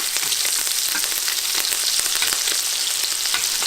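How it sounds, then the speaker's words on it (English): Fish fillets pan-frying and being basted with thyme herb butter, a loud, dense, steady sizzle and crackle filling the whole stretch, close up with no voices. "we're just going to keep on basting the fish until it's done with that really nice herb butter"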